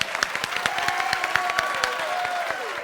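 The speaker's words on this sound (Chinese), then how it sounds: "掌声鼓励！" Dense, steady clapping from a studio audience on a Taiwanese variety show set, with light cheering mixed in, sustained and fairly close for a few seconds with no talking.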